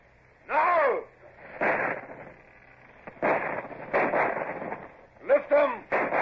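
Ship's guns booming at a shore battery in an old-time radio drama, several heavy, band-limited blasts in irregular succession with dull rumbling decay, interleaved with speech.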